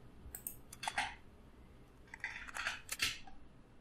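Crossbow reload effect for a video game: two bursts of sharp mechanical clicks and ratcheting snaps, crisp and close, separated by a short pause.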